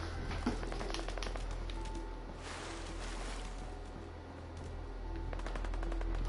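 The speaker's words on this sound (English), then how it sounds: "I can hear gunfire" Bursts of rapid video game gunfire rattle in the distance over a low steady hum, with quieter stretches between the volleys.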